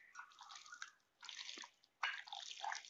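Chicken pieces being mixed by hand with yogurt for a Punjabi chicken curry, producing wet squelching and sloshing in three close bursts separated by brief pauses.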